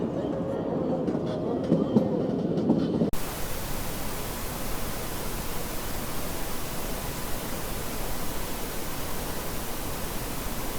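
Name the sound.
Kalka–Shimla toy train running on the railway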